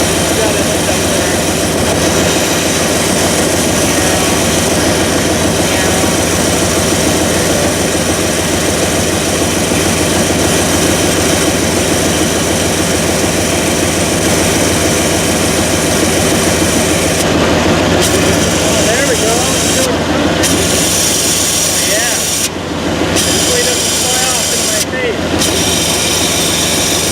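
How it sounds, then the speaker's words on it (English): A car's AC compressor clutch engages and runs rough, a loud continuous mechanical roar with repeated brief dropouts near the end, heard close up with no talk over it. "Obviously that clutch doesn't sound so good, but it did kick on."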